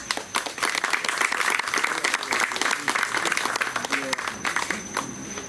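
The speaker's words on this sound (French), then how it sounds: "Puisque vous avez commencé à applaudir" Dense audience applause at a 35th-anniversary class reunion celebration in Florida, loud and sustained across many hands, with a voice speaking over it.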